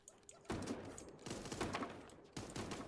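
AK rifle fire in the battle-royale game Super Animal Royale, heard as a few rapid bursts at a moderate distance, fairly quiet overall, with short pauses between the volleys.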